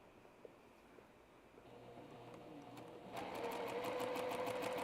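A sewing machine stitches a quilt block, quiet at first, then whirring louder and faster in a steady rapid mechanical rhythm close by.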